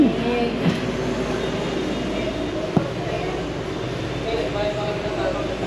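A train riding on its rails, heard from inside the carriage as a steady, close rumble and rattle that continues without a break, with people talking over it.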